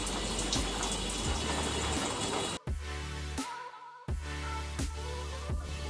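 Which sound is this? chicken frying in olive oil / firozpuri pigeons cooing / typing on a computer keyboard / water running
water running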